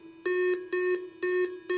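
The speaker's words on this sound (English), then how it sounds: "you're looking for a solid, repeatable beep" Four steady, identical electronic beeps from a Whites Spectra V3i metal detector signalling a target, in an even rhythm, each about a quarter second long, clear and close with quiet gaps between.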